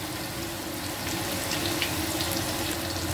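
Finely chopped onion hitting hot oil, giving a steady close sizzle that swells slightly partway through, with no talking.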